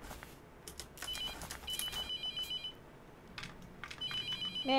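A telephone in the video game The Mortuary Assistant rings in repeated electronic trilling bursts, fairly loud and close, with pauses between rings.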